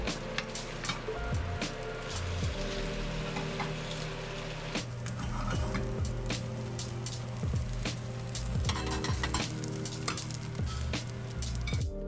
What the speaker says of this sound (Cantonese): 煎到兩邊香脆就起筷啦。